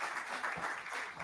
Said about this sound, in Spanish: vamos a despedir con un fuerte aplauso a Emilce Terré de la Bolsa de Comercio de Rosario